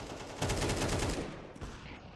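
A rapid burst of automatic rifle fire in a Counter-Strike match, dense repeated shots for about a second, close and loud, trailing off into a few scattered reports.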